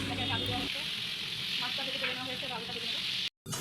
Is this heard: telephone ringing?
no